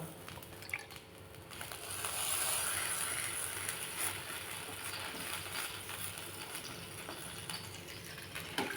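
Soft, faint squishing and patting of finger millet adai dough mixed with leftover drumstick leaf stir-fry, pressed flat by wet hands, a steady low rustle lasting several seconds with no voices.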